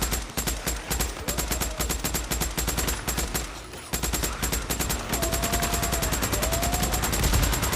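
Rapid automatic gunfire from the video game Days Gone rattles on continuously, with dense, evenly spaced shots that stay loud and close throughout, against a steady low rumble.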